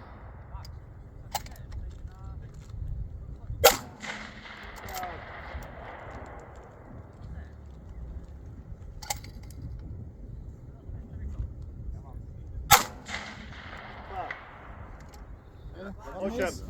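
Rifle shots crack at a Strix shooting competition in Poland: a few sharp, loud reports spaced several seconds apart, over outdoor wind noise, with a person talking between the shots.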